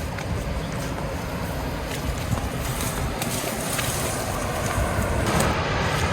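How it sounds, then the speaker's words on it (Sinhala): Water from a Sri Lankan waterfall after rain rushes in the distance, a broad steady roar heard from a footpath, with light wind buffeting the microphone. "දියැලේ වතුර සද්ද ඉතින් මෙහෙට අපිට ඇහෙනවා."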